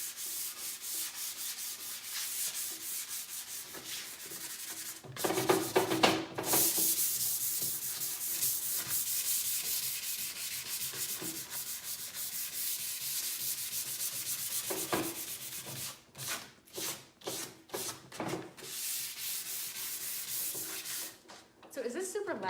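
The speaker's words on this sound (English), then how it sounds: "The sanding can be a little noisy, but that will go away very soon." Furniture is being sanded by hand with close, continuous abrasive rubbing strokes, broken by short pauses and a few quicker scrubbing bursts near the end, with no voices over it.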